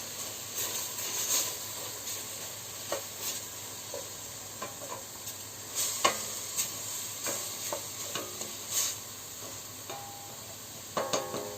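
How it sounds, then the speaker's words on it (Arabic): Ground meat frying in a pan for pastilla, seasoned with salt, gives a soft constant sizzle broken by repeated scraping clicks and taps of a utensil stirring it, close and fairly quiet throughout. "من بعد نحركهم شويه"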